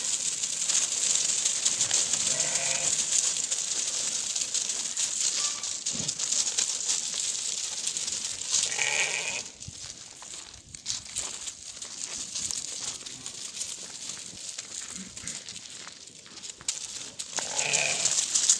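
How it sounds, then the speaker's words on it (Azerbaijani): Tatar breed lambs kept for breeding bleat now and then at a farm in Beylagan, short calls scattered over a steady outdoor hiss and rustling, with no talk. "tatarlar sortunun damazlıq quzuları budur"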